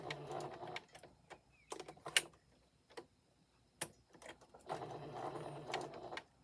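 A sewing machine back stitching a quarter-inch seam on a memory bear, its needle ticking in quick, faint bursts with short pauses between runs and almost no talk.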